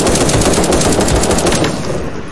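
Rapid automatic gunfire in the online shooter game Krunker.io, a dense loud burst of closely spaced shots that tapers off near the end.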